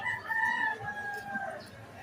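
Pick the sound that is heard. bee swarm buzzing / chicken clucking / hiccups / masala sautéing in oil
chicken clucking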